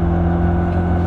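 A turbocharged Honda Civic Si engine pulls hard in fifth gear, a loud steady droning hum with strong low tones heard from inside the car for about a second.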